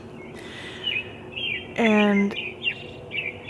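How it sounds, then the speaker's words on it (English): Birds chirping outdoors at about 4:30 in the morning before dawn, short high tweets repeating at moderate distance, with a brief louder tonal buzz in the middle and a voice saying one word. "these fucking birds aren't coming from trees, they're coming from the fucking sky"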